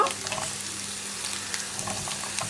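Chopped onion, green chilli and tomato sauté in hot oil with ginger and garlic for onion chutney, a steady close sizzle and crackle running the whole way with light stirring clinks and no voices.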